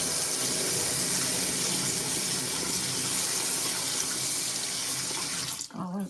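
A baby's spoon rinsed under a running tap, a loud steady splash of water into a sink that continues throughout and cuts off abruptly near the end.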